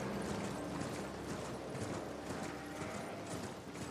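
Horse hooves gallop in steady clip-clop rhythm across open ground in Elden Ring, the rapid thuds continuous and fairly loud over a dense rustling ambient bed, with no voices.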